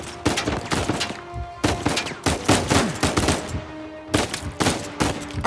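Gunfire in Uncharted 4 comes in repeated loud bursts of sharp shots, rapid volleys separated by brief pauses, close and dominant with no talk.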